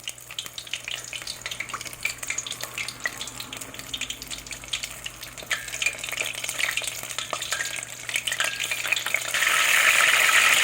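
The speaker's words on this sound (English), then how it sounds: "You can see it's darkening it up, and it's gotten quite loud. So the oil is probably a little too hot" Chicken spring rolls frying in oil that is too hot, a steady close crackle and sizzle that grows louder toward the end, with occasional stirring sounds.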